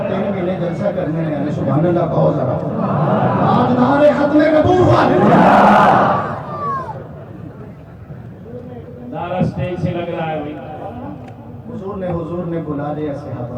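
A large crowd at a Khatm-e-Nabuwat religious conference in Pichnand, 2021, chants slogans in a swelling, loud roar for several seconds, then it fades as a voice carries on speaking over the hall.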